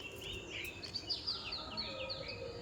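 Pigeons in a Madrasi loft give steady, fairly close chirping and cooing calls over a faint ambient hiss, with no talking.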